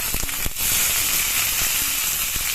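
Green chillies drop into hot coconut oil where mustard seeds are already popping for an eggplant curry, setting off a sudden burst followed by a steady, fairly loud sizzle.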